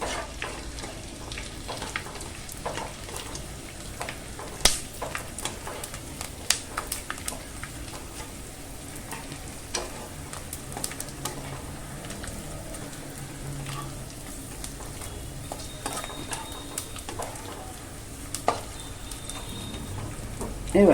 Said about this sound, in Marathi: थोडा थोडा टाकून ना असा डिंक आपण ना तळून घेऊया